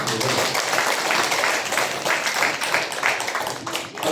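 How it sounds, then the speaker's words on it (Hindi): Audience at a large religious gathering in Pune claps together in a dense, continuous burst, with some shouting mixed into the applause. "ताली मारो।"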